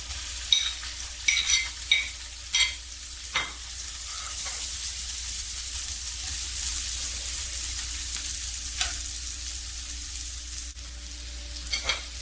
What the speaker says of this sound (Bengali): সামান্য তেল দিয়ে দেব পেঁয়াজ কুচি দিয়ে দেবো